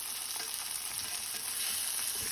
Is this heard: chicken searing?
yes